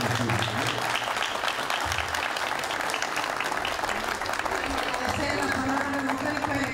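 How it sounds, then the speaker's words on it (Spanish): A lecture crowd at a Red Social event gives the host sustained applause, a dense, steady wash of many hands clapping at once, loud and close throughout, with a low hum and voices mixed underneath. "Se siente el aplauso para la anfitrión"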